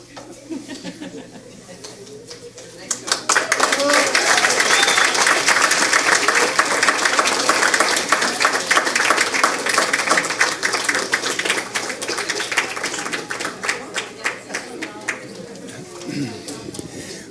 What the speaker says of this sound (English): Wanted to give our Novato High School students another round of applause